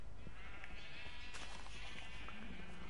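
A sheep bleats in the Minecraft video game, short wavering cries over a steady, noisy game background, with no talk.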